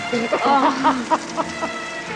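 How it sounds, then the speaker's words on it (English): The season's first rain falls as a steady hiss beneath a voice, with the talk dominating the foreground. "First rain this season!"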